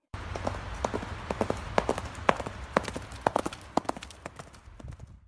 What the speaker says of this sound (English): Not footsteps, horse hooves.